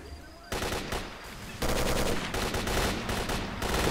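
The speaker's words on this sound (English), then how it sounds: "we've got a firefight going on up here." Automatic gunfire rattles in rapid bursts during a firefight in the video game S.T.A.L.K.E.R., loud and dense, with heavier volleys joining partway through.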